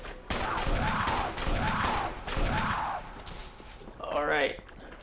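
Magnum revolver shots ring out in Resident Evil Remake HD on PS4: three loud, booming blasts spaced about a second apart, followed by a shorter, different mechanical burst.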